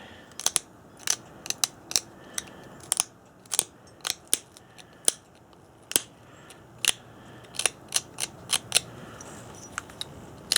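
Stone point being knapped to trim its base into a Snyders-style projectile point, giving a series of sharp, close clicking and ticking strikes at irregular intervals against a faint quiet background, no talking.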